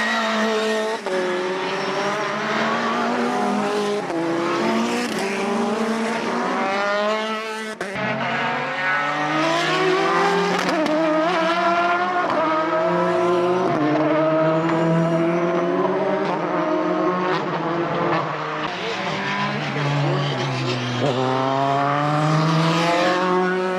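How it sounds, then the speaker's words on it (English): Race cars at Mondello Park scream toward the finish of a 17-lap race, engines revving high with rising and falling pitch through gear changes, loud and continuous with overlapping cars passing. "Cian Carey heading down to the finish of the 17-lap race."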